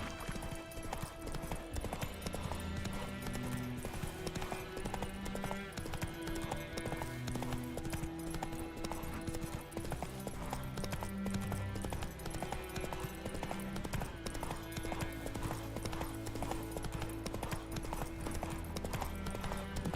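Roach the horse's hooves clip-clop at a steady, even rhythm in The Witcher 3, a continuous moderate trotting that runs under game ambience and music for the whole stretch.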